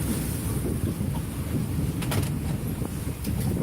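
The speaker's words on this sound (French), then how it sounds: "22 nœuds de vent, on est au-dessus des 7 nœuds de moyenne." Strong wind of about 22 knots roars over a sailboat heeling at sea, a dense, steady broadband rush with low buffeting across the whole clip and no voices.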